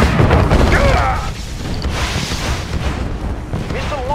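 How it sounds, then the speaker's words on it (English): A deep rumbling boom from a missile launch in a Soviet mission of a real-time strategy game, heavy low roar sustained across the moment with mechanical texture, while a game voice announcer speaks over it. "Missile launch confirmed"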